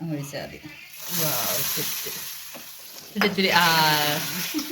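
Hot oil hisses and sizzles as chili powder hits it with the heat off, the crackle swelling midway, with a person talking over it, while making mango curry.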